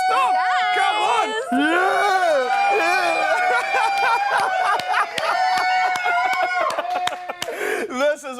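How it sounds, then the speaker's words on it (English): A live studio crowd cheers and screams for Paxton Phillips on a morning TV show, with loud, sustained whoops and shouting voices and scattered claps throughout. "the crowd is going absolutely crazy"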